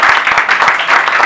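Wedding guests at a civil marriage ceremony clap together in a dense, lively burst of applause, loud and close, with pulsing bunches of hand claps throughout.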